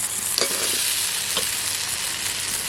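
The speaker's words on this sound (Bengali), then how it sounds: "আমার মশলাটা কষানো হয়ে গেছে, দেখো এই যে ভাজা হয়ে গেছে। আমি এখন এর মধ্যে আলু দিয়ে দেবো।" Potatoes being fried and stirred into a cooked-down spice masala, a steady close hiss of sizzling oil with a few scraping stirs of the pan, no voices.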